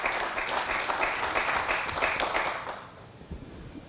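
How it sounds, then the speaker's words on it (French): A conference audience gives sustained applause after a talk on acute respiratory distress syndrome and air quality. The clapping is full and steady at first, then thins and fades to scattered claps. "On vous applaudit."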